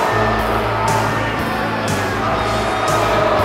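A live wrestling crowd reacting to Shawn Michaels during a match against Chris Jericho: a steady, loud wash of arena noise with scattered shouts and jeers throughout.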